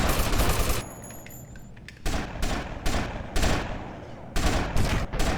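Video game gunfire in GTA Vice City Stories: loud close bursts of automatic fire alternate with brief gaps, ending in several sharp repeated volleys during a cartel shootout mission.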